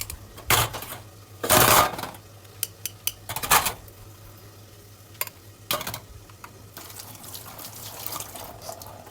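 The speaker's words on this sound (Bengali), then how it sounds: "পরিষ্কার বাটিগুলো তো আমি একে একে ধুয়ে নিচ্ছি।" Bowls being washed one at a time, with sharp clinks and clatters of dishes knocking together, bursts of running water and splashing, and quieter rinsing in between.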